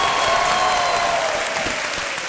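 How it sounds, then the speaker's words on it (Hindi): A studio audience claps loudly and continuously at a televised quiz show set, sustained dense applause with a faint whistle running through it. "तालियां बजती रहे मीनाक्षी के लिए।"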